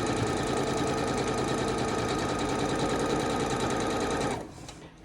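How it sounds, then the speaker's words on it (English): A sewing machine stitches quilt pieces together, a loud, fast, steady mechanical whir of needle strokes running continuously before stopping abruptly near the end. "almost sewed the end of the quilt to the top of the quilt"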